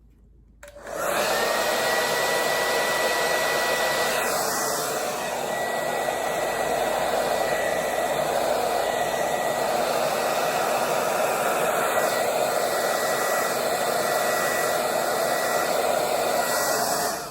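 A hair dryer switches on and blows steadily onto short bangs, a loud, even whooshing roar held close for the whole stretch with no talk.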